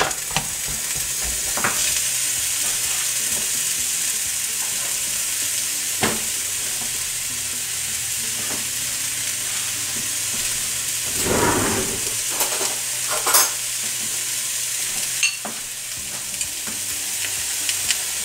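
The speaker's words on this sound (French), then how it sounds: "Et on remue comme ceci." Food frying in a pan and stirred in a restaurant kitchen: a constant loud sizzle with repeated scraping strokes and a few sharper clatters of the utensil against the pan.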